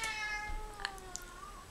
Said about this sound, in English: If you can hear the meowing in the background